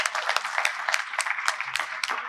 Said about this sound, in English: Once more, please give this round of applause.